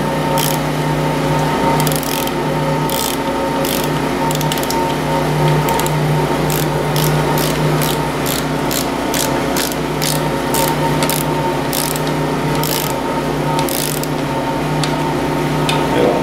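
Ratcheting inch-pound torque wrench tightening the oil pan bolts on a Ford 800 tractor, a close series of short mechanical clicks repeating in bursts over a steady background hum, with no talking.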